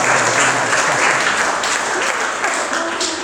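A wedding crowd bursts into sustained applause with scattered cheers after the couple is pronounced married, loud and steady throughout, gradually easing at the end.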